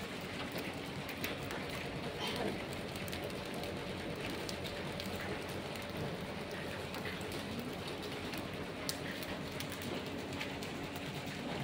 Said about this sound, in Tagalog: Sabay yung lagatuktok ng ulan dito.